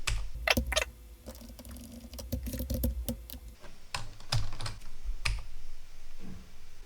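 Computer keyboard typing a docker build command into a terminal, a quick irregular patter of close, crisp key clicks at moderate volume with no talk.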